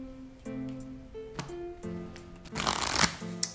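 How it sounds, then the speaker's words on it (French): A deck of 54 playing cards is shuffled at close range, producing a short burst of rapid riffling flutter, with a faint tonal background before it and a final tap. "nous aurons besoin d'un jeu de 54 cartes que le spectateur pourra mélanger si ça lui dit"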